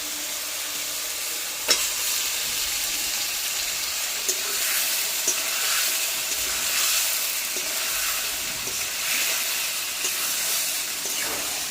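Chicken frying in oil left over from browning onions for homemade biryani: a continuous close sizzle and hiss with occasional stirring clicks and light scraping, steady and unbroken, with no voices.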